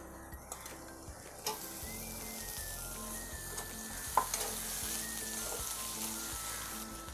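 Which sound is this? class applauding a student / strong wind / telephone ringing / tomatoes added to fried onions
tomatoes added to fried onions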